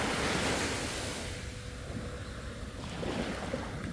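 Ocean waves washing up onto a sandy beach, a broad close hiss of surf with wind rush that eases and then rises again, no voices.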